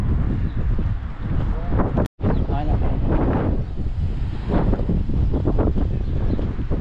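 Strong, cold wind buffets the microphone in a steady roar on a high lookout in Lerwick, Scotland, with a brief dropout midway and voices faintly audible beneath the gusts.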